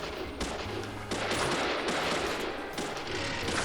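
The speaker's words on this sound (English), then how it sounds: "Thomas is using the gun." Rapid gunfire in the Deadly Premonition video game during a boss fight, loud continuous bursts of shots with a dense, noisy texture and brief dips between volleys.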